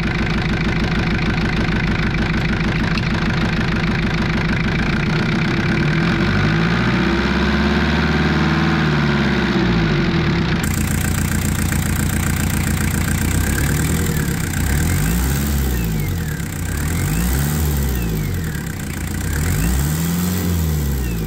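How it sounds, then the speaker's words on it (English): A Jeep XJ with a 2.5 TD diesel engine and an upgraded mechanical fuel pump idles slightly high, giving a loud, steady close-up clatter with a brief rise in revs partway through. "you'll hear that it's idling a bit high"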